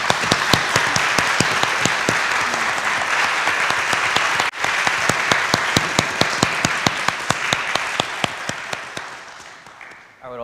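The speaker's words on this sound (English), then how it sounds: "give everyone a round of applause" Audience applause closing a talk event with author Min Jin Lee, sustained crowd clapping with sharp individual claps standing out, thinning and fading toward the end before a voice returns.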